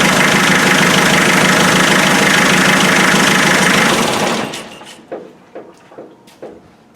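A 2.5 naturally aspirated diesel engine in a Land Rover Defender idles at 750 rpm with a steady, rough rumble for several seconds, then cuts off, leaving a few faint clicks and knocks.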